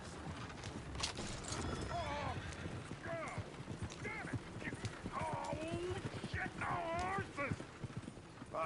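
Horse hooves clip-clop steadily in Red Dead Redemption 2, mixed with neighs and whinnies under ongoing game dialogue and ambient sound.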